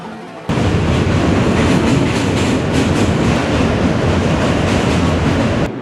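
A subway train roars past at close range, a dense, steady rumble with rhythmic clatter of wheels on rails, starting abruptly after a brief moment of quieter ambience and holding loud to the end.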